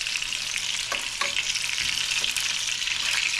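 Meatballs dropping into a pan of sauce give off a steady, close frying sizzle, a dense hiss that runs the whole time with a few soft stirring clicks and bumps mixed in.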